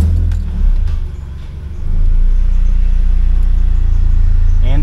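A Honda K20/K24 engine fitted with an RBC intake manifold cranks and fires close up, dips briefly, then settles into a loud, steady, smooth idle rumble.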